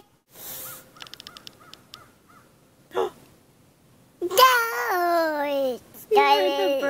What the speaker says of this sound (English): The birds were talking to you.